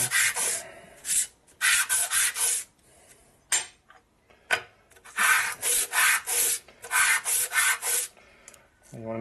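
Repeated back-and-forth strokes of a 1952 Harley-Davidson 74ci panhead cast rocker block being sanded flat by hand, sharp, close and loud, in bursts of rhythmic rubbing separated by brief pauses.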